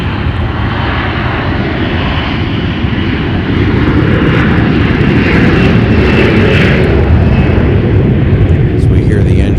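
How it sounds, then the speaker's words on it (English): Loud, sustained roar of an Airbus A321's jet engines in reverse thrust building and holding after touchdown at MSP airport in winter, a continuous rumbling drone. "As we hear the engines of that Airbus A321 reversing after touching down"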